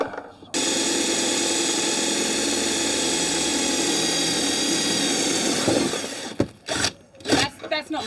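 A power drill bores a hole into a Jayco Outback caravan, a loud steady high whine running for about five seconds before several short bursts as it stops and restarts.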